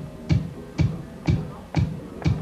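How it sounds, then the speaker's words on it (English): A sequenced kick drum pattern of straight bass drum hits: five deep, punchy thumps land at an even, steady pace, about two per second, with nothing else playing. "16 bars of bass drums there. It sounds like this."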